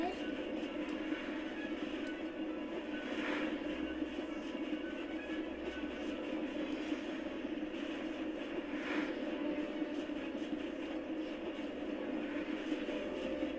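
A train rolls along in the Polar Express video game, a steady, continuous rumble and clatter that fills the whole stretch at an even level.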